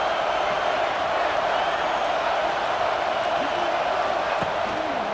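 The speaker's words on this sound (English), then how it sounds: "Listen to this crowd just shaking the girders of this place, trying to help their defense." A huge stadium crowd in the video game EA Sports College Football 26 roars continuously, a dense, unbroken wall of noise that holds steady throughout.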